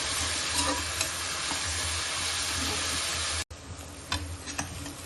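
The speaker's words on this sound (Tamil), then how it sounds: "கொஞ்சம் உப்பு ஆட் பண்ணிக்கிறேன், சீக்கிரம் ஃப்ரை ஆகும் ஆனியன்" Four large onions fry with added salt in a pan for biryani, giving a steady, close sizzle with small ticks and stirring scrapes. A brief break in the sound comes partway through, then the frying resumes.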